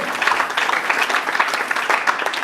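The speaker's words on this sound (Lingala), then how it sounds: "Acclamez pour la gloire de Dieu" Dense, steady applause from a church congregation, many hands clapping together at close range for a few seconds with no voices over it.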